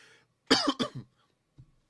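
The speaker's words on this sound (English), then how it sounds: "I don't know why I'm coughing." Two quick, close coughs from one person, followed by a faint throat sound and quiet.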